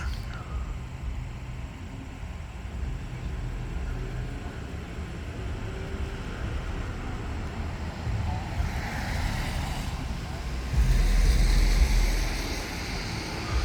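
Cars roll past on a nearby road as a steady broadband traffic wash, with a louder vehicle swelling close by toward the end; no one speaks.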